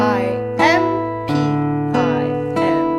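A guitar plays bright fingerstyle triplet arpeggios in repeating groups, each cluster ringing out and overlapping the last, with a low sustained bass note underneath.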